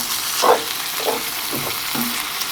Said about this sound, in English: And go ahead and stir it all together.